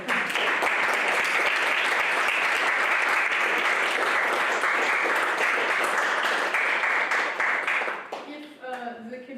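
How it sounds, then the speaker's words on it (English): Loud, sustained applause from a crowd at a tournament of champions mock trial competition, a dense roar of clapping for about eight seconds that fades, with voices emerging at the end. "let's give everybody a round of applause"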